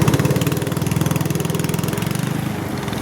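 A trawler boat's engine runs steadily on a river with strong current, a loud, close diesel chugging with an even, rapid pulse throughout.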